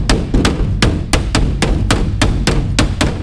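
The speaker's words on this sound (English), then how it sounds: "I hate this skylight. I don't know why they put it in here, but it sounds like this." Skylight on a Bombardier Bombi snow vehicle rattles and bangs in a loud, steady series of sharp knocks, about three per second, over a constant low engine rumble.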